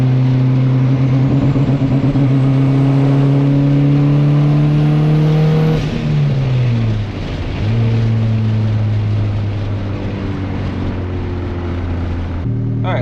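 Car with rolling antilag under full throttle, the engine note climbing steadily through the gears, each shift marked by a drop in pitch and a fresh climb, loud and close.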